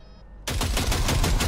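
A sudden, sustained burst of rapid automatic gunfire in the video game Cyberpunk 2077 erupts after a short quiet moment, loud and continuous until the end.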